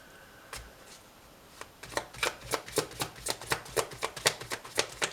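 Tarot cards shuffled and dealt by hand, a quick run of crisp riffling snaps that starts sparse and then settles into a steady, evenly spaced patter of close, clear card flicks with no talking.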